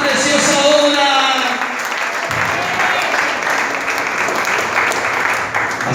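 A church congregation claps together as an offering of praise to the Lord during a sermon, a loud, sustained burst of applause over a lingering musical tone.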